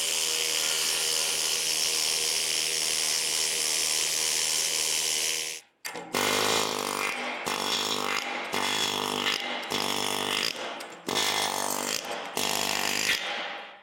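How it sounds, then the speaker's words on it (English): A needle scaler hammers scale off metal cut-off areas of a fabrication project, with one long steady buzzing run and then a string of loud bursts broken by short pauses, close and harsh with no talking. "I'm going to take the needle scaler, try to clean up everything we can"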